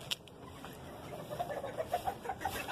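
Young chicks and grown chickens clucking and peeping in a backyard coop, a steady run of short, close, moderately loud calls with no talking.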